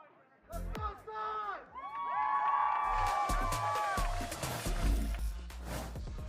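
An esports arena crowd roars and cheers during a Valorant match, Sentinels versus FURIA, with loud sustained shouting, whoops and excited screams that swell and hold for several seconds.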